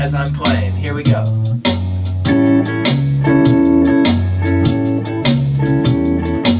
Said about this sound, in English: I'll actually delete some of my rhythm by letting up on my left hand as I'm playing.